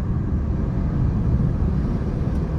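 An Audi RS7 sits running in comfort exhaust mode, giving a low, soft, steady engine rumble with no revving, close by and unchanging throughout.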